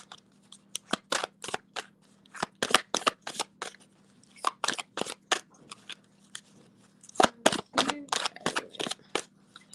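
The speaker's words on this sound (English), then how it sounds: "You know how to shuffle the cards, Dave." Playing cards riffled and shuffled repeatedly, a close series of sharp crisp flutters in quick bursts with short pauses, over a faint steady hum, no one speaking.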